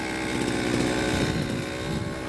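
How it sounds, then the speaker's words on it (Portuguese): A petrol brush cutter's small two-stroke engine idles steadily while warming up after starting, a continuous buzzing drone close by with a slightly wavering pitch and no talk over it. "Sempre deixa ela dar uma aquecida, deixa o motor aquecer"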